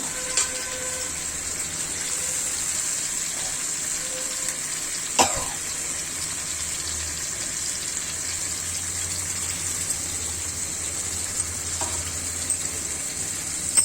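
Pieces of rui fish sizzle in hot oil in a pan, a steady loud hiss that runs throughout, with one brief sharp splash partway through and no one talking.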